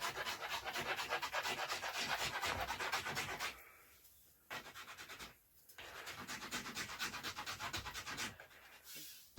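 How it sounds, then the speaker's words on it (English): Hand wood rasp shaping the limbs of an English longbow, a steady rapid scraping rub in long continuous passes with two brief pauses, close and fairly loud with no talking. "Some of this I'll take the rasp, since I have more control of it"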